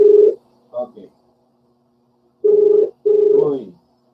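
Telephone ringback tone heard while waiting for a call to be answered, in three clear bursts with short gaps between them, loud and close, with a brief faint murmur in between.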